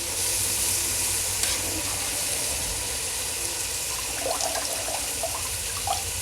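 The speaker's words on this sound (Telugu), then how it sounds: "ఇప్పుడు బియ్యం వేసుకుంటున్నాను అనమాట." Soaked rice goes into a pan of simmering tomato gravy, with a continuous hiss and sizzle and a few wet splashing bits toward the end, close and fairly loud.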